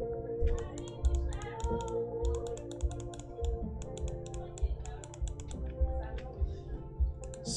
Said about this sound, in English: You can press the bracket on your keyboard to unzoom